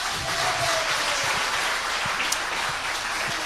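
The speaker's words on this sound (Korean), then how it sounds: "박수로 모시겠습니다." Steady audience applause welcoming a general onstage, dense continuous clapping that holds evenly throughout with no voices over it.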